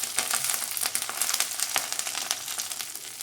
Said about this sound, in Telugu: దీనికి కొంచెం ఆయిల్ వేసుకుని ఫ్రై చేసుకోవాలన్నమాట